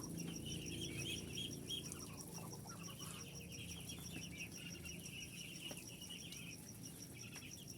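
A flock of Muscovy ducks on a duck farm keeps up a busy, continuous chorus of soft clucking, chirping and rustling, with a faint steady high-pitched tone running underneath.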